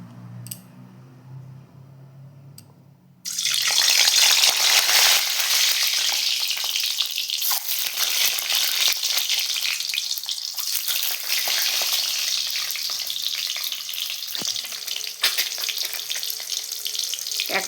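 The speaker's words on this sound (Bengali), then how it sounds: "এবার আমি ডিমগুলো ভেজে নেবো।" Eggs frying in a pan for a home-style Bengali egg curry, a loud steady hiss and crackle that bursts in suddenly after a quiet start and sizzles on continuously with occasional sharper pops.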